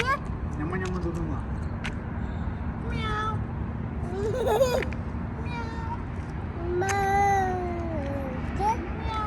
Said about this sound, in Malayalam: പൂച്ചയുണ്ടോ വീലി? പൂച്ചയുടെ പൂച്ച.